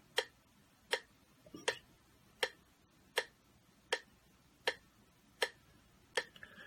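Metronome clicking steadily at an even tempo, about one sharp click every three-quarters of a second, fairly faint against a low background hum, no voices.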